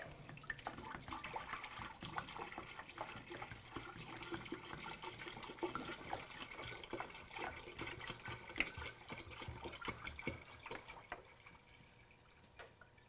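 Water running and splashing as it is poured into a canning pot to cover the jars of dilly beans, a steady broadband rush with drips throughout that eases off near the end.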